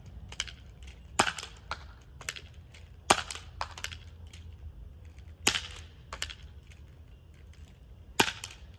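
A Nerf dart blaster with a stiff trigger firing during a 100 dart challenge, sharp loud pops spaced a second or two apart, mixed with softer mechanical clicks and rattles of handling close up.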